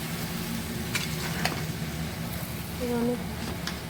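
Sliced ridge gourd stirred with fried spices in a pan on a home stove, giving a soft, steady sizzle with light scraping, close and fairly quiet, with a short tonal clink near the end.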